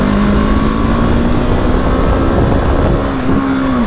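A 2020 Husqvarna 701 SM with a fuel dongle pulls hard in second gear, its single-cylinder engine droning loud and close at a steady, slightly rising pitch.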